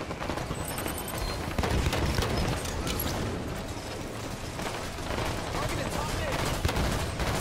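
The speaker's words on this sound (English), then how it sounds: "I like it when the battle rifle can get kills." Battle rifle fire in the video game Halo 5, repeated crackling bursts of game gunfire over a dense background of combat effects, with a player talking throughout.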